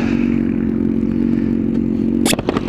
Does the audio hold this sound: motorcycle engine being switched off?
yes